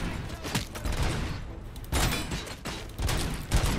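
In the video game RoboCop: Rogue City, AK rifle gunfire rattles in several dense bursts with brief lulls between them, loud and close, heard alone without talk.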